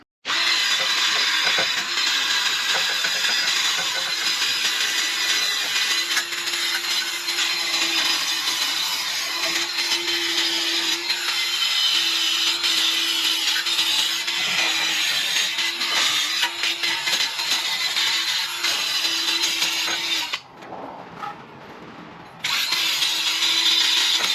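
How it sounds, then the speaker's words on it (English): A wire brush scrubs rust from the front wheel hub of a Kia Forte or Hyundai Elantra during a brake job. The harsh, continuous scraping stays loud and steady for about twenty seconds, breaks off briefly, then resumes. "So we're just going to use a wire brush, clean this hub up"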